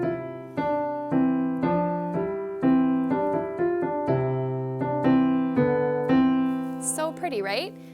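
Both hands play "Deck the Halls" on a piano, a bright melody over a left-hand harmony in close, clear, evenly paced notes. A voice starts speaking briefly near the end.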